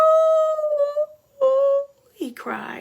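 A voice imitates a long, anguished dog howl in two drawn-out wails, followed by a short spoken exclamation.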